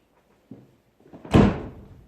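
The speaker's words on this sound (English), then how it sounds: "I'm going to shut this door" A barn door is shut with a small knock, then a scraping slide that ends in a loud, close thud and a fading rumble.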